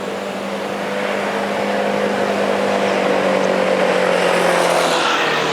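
Honda Forza 250cc scooter engine running while riding, a smooth steady drone with a low constant hum and wind rush, heard up close with no talk.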